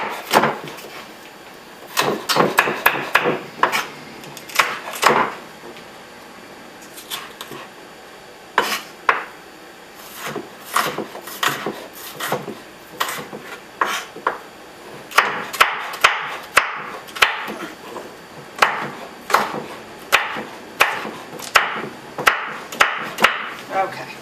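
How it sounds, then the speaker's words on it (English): A kitchen knife chops a red pepper into very thin julienne strips on a board, giving crisp repeated knocks in irregular bursts, close and fairly loud, with short pauses between runs of cuts and no talking. "I think for the red pepper, I personally prefer to use the knife"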